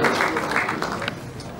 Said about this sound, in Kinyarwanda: babampera amashyi rwose ni ukubampera amashyi